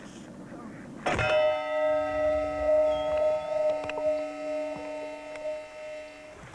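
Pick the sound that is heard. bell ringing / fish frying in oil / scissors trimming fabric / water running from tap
bell ringing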